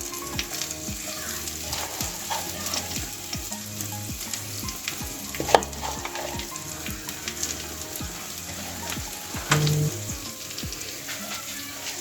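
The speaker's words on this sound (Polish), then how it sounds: "Przykrywamy i smażymy na małym ogniu przez około 5 minut." Bread and egg casserole frying covered in a pan over low heat, giving a steady soft sizzle throughout with faint clinks and a brief louder knock midway.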